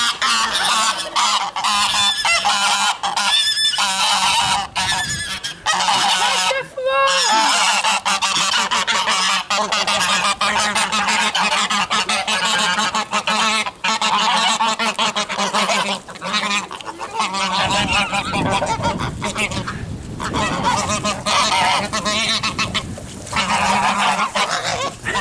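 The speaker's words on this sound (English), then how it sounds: "And here's the geese." A flock of geese at a poultry yard honk loudly and continuously, many overlapping calls close by throughout.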